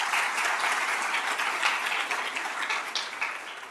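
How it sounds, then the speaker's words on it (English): Audience applause at a speech event, a dense, steady patter of many hands clapping nearby, sustained throughout at moderate volume, with no talking. "help me welcome Erie with a warm round of applause"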